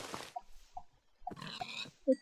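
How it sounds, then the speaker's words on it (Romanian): Pigs grunting in the Minecraft video game near a village, a few short separate grunts spread over a couple of seconds, the last one loudest and closest, with quiet gaps between. "Omorăm pe acești porci."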